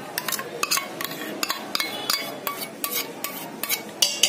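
Garlic-ginger paste, salt and yogurt going into raw chicken, with repeated light clinks and scrapes of a spoon against a metal bowl or pan in a steady irregular rhythm, close and fairly quiet, no talking.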